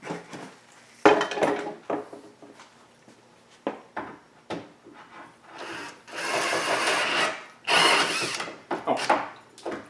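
A drill bit bores through wood to enlarge a hole, giving bursts of grinding and scraping with a louder rough stretch near the end, close and intermittent.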